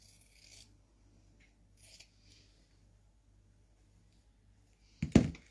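Quilt binding fabric being trimmed on a mini quilt, with a faint rasping rub early on, then one short, loud crunchy cut near the end.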